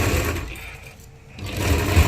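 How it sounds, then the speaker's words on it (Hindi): Sewing machine stitching along the folded edge of a blouse strip, a steady close mechanical whir that eases off briefly in the middle and then picks back up. "बिल्कुल ऐसे धार पे सिलाई लेनी है ना।"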